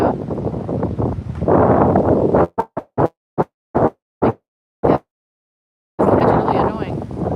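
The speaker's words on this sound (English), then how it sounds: "It's very windy." Strong wind buffets an outdoor microphone on a walk by the Thames in the City of London, roaring loudly, then cutting into choppy bursts and a silent gap before returning full force.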